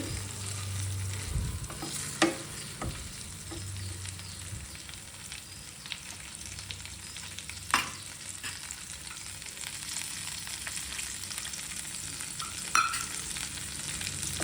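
Capsicum frying in plenty of oil for a capsicum curry, with a steady close sizzle and occasional scraping and clinking of a spoon against the pan as it is stirred.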